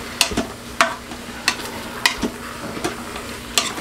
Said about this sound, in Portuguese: Enquanto minha comida tá aqui fritando